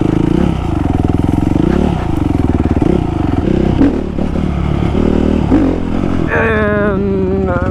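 A supermoto motorcycle on slippery-gripping tires revs and rises and falls in pitch through repeated throttle surges, loud and close, with clattering and a brief higher whine near the end.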